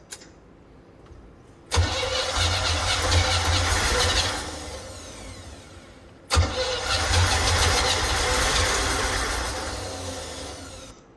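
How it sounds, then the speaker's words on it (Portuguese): The engine of a 1972 Winnebago Brave motorhome cranks and fires twice, each start a sudden loud roar that settles into a rough, uneven idle, close and steady between the two attempts. "E aí ele consegue no final, depois de algumas tentativas, monta e faz o motor girar."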